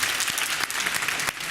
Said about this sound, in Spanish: Les voy a pedir un fortísimo aplauso